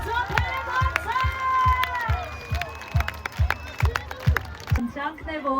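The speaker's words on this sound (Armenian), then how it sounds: "Եկեք բարձր ծափարենք։" Concert audience at a pleasant hometown concert clapping loudly, rhythmic group claps in a steady beat while a voice sings or talks over the crowd throughout.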